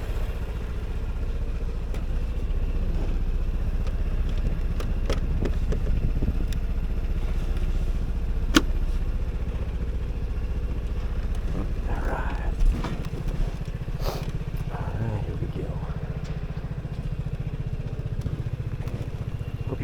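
A Vespa GTS 300 scooter on the road: a steady mid-pitched engine drone with wind noise and occasional clatter, running continuously while a rider talks over it.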